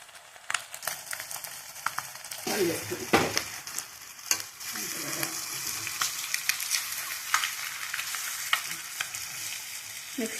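Egg curry is stirred in a frying pan, a continuous sizzle of frying under repeated scraping and clinking strokes of a spoon, close up, with louder bursts of mixing in the first few seconds.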